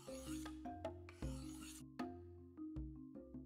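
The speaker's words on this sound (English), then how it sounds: "Grab a sharp knife and just give it a quick hone." A sharp knife is given a quick hone before an emu egg is cut open at a barbecue. The steel sounds in a few short rasping strokes with a rhythmic, fairly close scrape over a tonal background.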